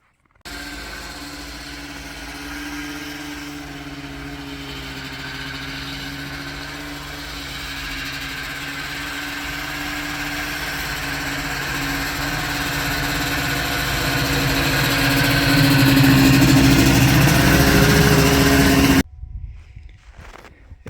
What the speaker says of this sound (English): So snowmobile pulls the drag leaves a nice track